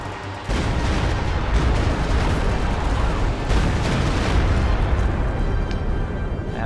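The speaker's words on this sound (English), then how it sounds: "He really needs to be more accurate with those Stuka barrages. That's twice that he's fired now and had no impact." Stuka barrage explosions in Company of Heroes 2, the video game: heavy booming blasts and crackling gunfire that swell in after a brief lull and keep rumbling loudly in a thick, sustained barrage.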